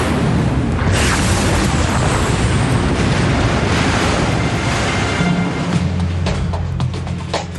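Simulated aircraft crash into water for an air-disaster reconstruction: a loud, roaring broadband impact and rushing surge like heavy surf, sustained for several seconds before a slight easing, with no talking.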